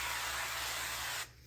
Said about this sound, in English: Just gonna spray the pan with some avocado oil.